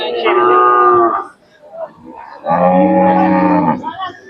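Khillar cattle at the Sangola cattle market in Solapur, Maharashtra, give two loud, long moos close by, the first lasting under a second and the second a little longer, with a short quiet gap between them.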